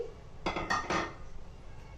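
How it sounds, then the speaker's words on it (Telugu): A spoon clinks against a bowl while spiced corn is mixed for crispy corn, three or four close, bright knocks in quick succession with a light scraping tail and no voices. "ఆ పీస్కి కార్న్ బాగా పట్టేటట్టుగా కలుపుకోవాలండి"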